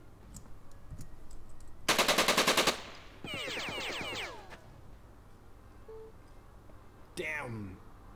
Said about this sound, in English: Good thing that you have a full automatic machine gun, eh?